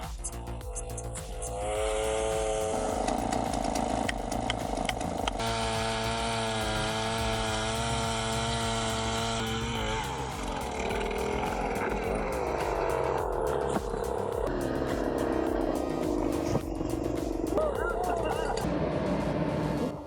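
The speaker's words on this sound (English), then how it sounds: "The power on this John Deere 1270G with H415 head is just outrageous." A John Deere 1270G forestry harvester with an H415 head works through trees, its engine and saw roaring continuously with shifting pitch, while a voice talks over much of it.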